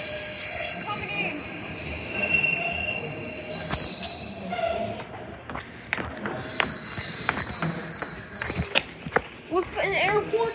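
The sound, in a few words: SEPTA train 521 arriving at Fern Rock station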